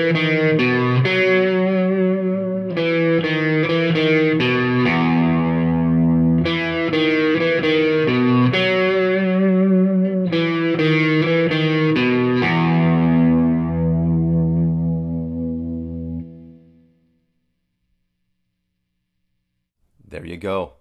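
Distorted electric guitar riff through a Nova Drive pedal with light EQ, spring reverb and a hard noise gate, played loud and steady with rhythmic chugging chords for about sixteen seconds, then cut off abruptly to silence before a brief final burst.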